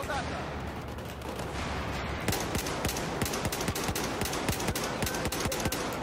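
Rapid, loud, sustained gunfire in Battlefield 4 on the Operation Metro map, with dense overlapping shots firing in quick succession throughout and a voice talking at times.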